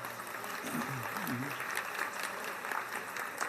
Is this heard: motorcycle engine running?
no